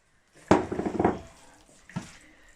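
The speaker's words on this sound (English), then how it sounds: "So I'm going to add a little bit of water." Water from a kitchen tap runs into a cooking pot for about a second, a close splashing rush with some metallic clatter, then a brief second splash.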